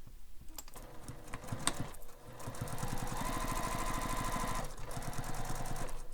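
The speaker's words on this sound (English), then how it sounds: "Now I'm going to top stitch that top edge that we sewed together." A sewing machine top stitching along the top edge of a fabric wallet, running in a fast, even mechanical patter that starts in short bursts and then settles into a continuous stitching run, close and moderately loud.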